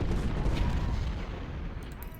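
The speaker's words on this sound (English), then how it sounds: "we'll go ahead and let them fire" Infantry rifle fire in the Ultimate General: Civil War game, a dense rumbling volley of massed musketry that booms loudly and slowly fades, with no talking.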